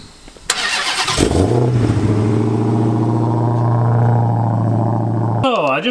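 Turbocharged LS-swapped Mustang engine starts up and settles into a loud, steady idle up close, with a few bursts of revving, then an abrupt cut to a different sound at the end.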